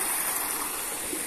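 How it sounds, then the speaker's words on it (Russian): Waterfall rushing in a steady broadband hiss, moderately loud and continuous, with no voices over it. "Там водопады"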